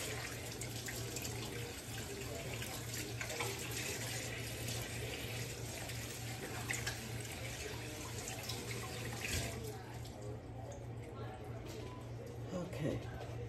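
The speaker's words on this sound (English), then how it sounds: "let me wash my hands" Tap water running into a kitchen sink while hands are washed, a steady soft hiss of flow throughout with faint splashing, fairly quiet, while a person talks over it.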